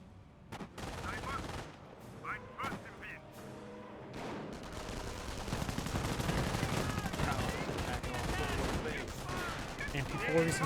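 MP40 submachine gun fire in the Company of Heroes strategy game: a few sharp shots early, then sustained overlapping automatic bursts and battle noise that grow busier and louder, with faint voices underneath.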